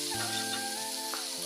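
Locusts fry in a little oil in a pan with a steady, close hiss of sizzling that runs unbroken through the short stretch. Faint tonal whines sit over the frying noise.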